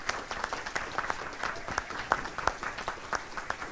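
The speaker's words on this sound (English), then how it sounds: "I just want to give these folks a good round of applause" A smallish group at a Maryland State Firemen's Association meeting claps for the volunteer kitchen helpers, sparse, uneven individual claps at moderate distance rather than a full roar.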